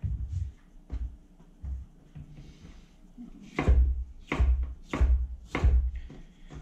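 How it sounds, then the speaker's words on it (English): A kitchen knife rough-chopping a pepper on a cutting board, with a few soft taps at first, then four heavy, evenly spaced chops close by, with no one talking. "just do kind of a big rough chop on your pepper"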